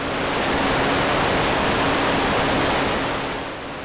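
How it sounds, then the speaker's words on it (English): A Pittsburgh Modular Double Helix oscillator with extra noise mixed into its signal gives a steady, loud hiss like broadband rushing, holding even and unbroken before easing slightly at the end. "Or we can add even more noise into the signal."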